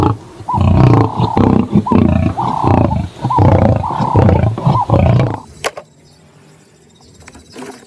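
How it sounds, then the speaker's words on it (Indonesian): A lion roars loudly and close, in a string of deep rumbling bursts for several seconds, then breaks off into quieter background ambience. "Ini seekor singa."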